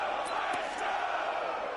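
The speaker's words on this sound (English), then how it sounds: "The crowd getting into it as we come up on a big 3rd down." A stadium crowd in an American football video game roars steadily as a big third down approaches, with a broad sustained swell of cheering under a commentator's voice.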